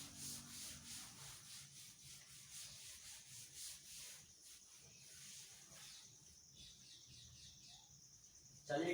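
A duster rubs writing off a board in a class 12 math lesson, giving a soft, steady back-and-forth scrubbing with a rhythmic swishing pulse that continues for several seconds before a louder bump at the end.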